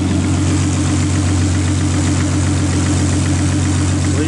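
Nissan Skyline with an RB25DET engine idling close by, a loud, steady low rumble with a constant hum and fine even pulsing, no other sounds.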